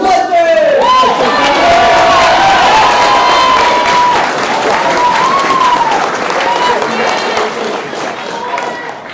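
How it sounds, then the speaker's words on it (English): Loud applause from the audience at a martial arts black belt graduation for an award winner, mixed with cheers, whoops and raised voices, fading slightly toward the end. "let's give a big round of applause for Mr. Wyatt Mudford"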